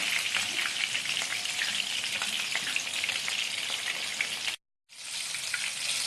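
Chapli kababs frying in oil over a low flame, a steady bright sizzle and crackle that runs continuously, cuts out briefly to silence, then resumes just as loud.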